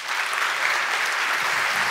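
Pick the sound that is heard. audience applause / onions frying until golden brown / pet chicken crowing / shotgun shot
audience applause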